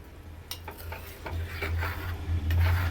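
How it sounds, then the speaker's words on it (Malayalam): A spoon stirring a Kerala-style fish curry in a pot, soft scraping and clinks against the vessel over a low bubbling simmer, close and fairly quiet. "ഇടയ്ക്ക് നമുക്കൊന്ന് പതിയെ സ്പൂൺ ഇട്ട് ഇളക്കാം അല്ലെങ്കിൽ ചുറ്റിച്ച് വയ്ക്കാം"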